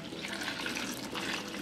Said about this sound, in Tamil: இதில் தண்ணி ஊற்றி